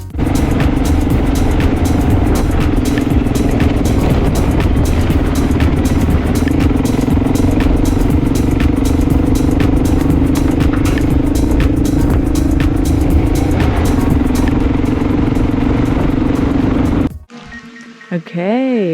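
A Honda XR600R dual-sport motorcycle rides through Botswana with a loud, continuous engine drone, steady rhythmic clatter and wind rush up close, then drops away near the end as a voice is heard.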